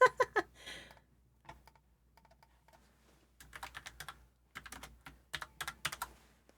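Keys on a computer keyboard are tapped in quick bursts separated by short pauses, close and fairly clear against a quiet background with a low hum.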